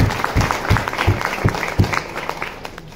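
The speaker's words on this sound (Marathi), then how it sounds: "त्यांच्यासाठी एकदा जोरदार टाळ्या." An audience at a wealth-education seminar in Beed claps vigorously, a full room of steady applause with distinct sharp hand claps, fading slightly toward the end.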